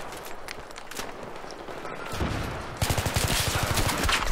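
SKS rifle fire rings out as a rapid series of sharp, cracking shots that grows denser and louder toward the end, mixed with other gunfire at a distance.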